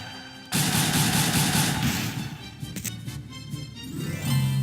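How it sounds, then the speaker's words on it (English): Rapid gunfire from a gun in the game Disgaea, bursting in abruptly as a dense, loud volley of shots that holds for a couple of seconds, then thins into scattered cracks and rumbling impacts, with no voices. "shoot him with my gun. 2, 3, 4. Rapid fire."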